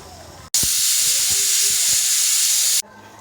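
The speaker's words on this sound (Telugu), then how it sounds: "వేయించిన మసాలా చల్లారని మిక్సీ పెట్టుకున్నాం." A mixer grinder grinds roasted masala for a homemade mutton curry. It gives one loud, steady whirring roar that starts abruptly, runs for a little over two seconds and then cuts off.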